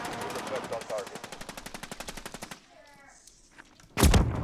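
Rapid automatic gunfire rattles in a first-person shooter match with RAM-7 rifle and KATT sniper loadouts: a fast, regular burst of shots lasting over two seconds, a quiet lull, then a sudden loud blast near the end.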